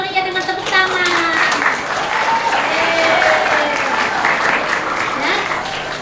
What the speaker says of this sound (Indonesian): Mari kita sambut meriah dengan tepuk tangan